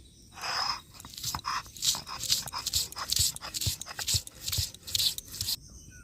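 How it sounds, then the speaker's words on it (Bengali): Chopped ginger is ground into paste by hand on a grinding stone, giving a run of rhythmic gritty scraping and crunching strokes, close and fairly loud, repeating steadily until a brief pause at the end. "আদাটা আমি বেটে নিচ্ছি"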